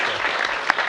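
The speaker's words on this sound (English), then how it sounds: "Give him a round of applause." A meeting crowd gives a short round of applause, many hands clapping in a steady, fairly loud burst at close range.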